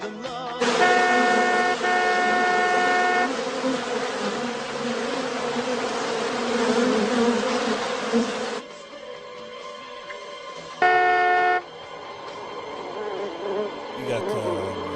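A film scene near a car has a loud, steady swarm of bees buzzing, with tonal horn-like blasts layered in, then the buzzing drops after a few seconds and continues more quietly.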